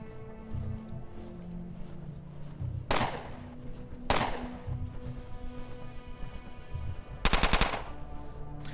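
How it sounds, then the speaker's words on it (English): 5mm pistol fire in the game Underrail, two loud separate shots followed by a quick rapid burst, each crack sharp and near against a low ambient hum and music. "That's a 5mm pistol he's firing."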